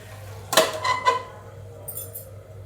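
A metal lid set down on a pot of cooking pea and potato bhaji, heard as a close sharp clank followed by a couple of rattling clinks before it settles, with a faint light jingle afterward.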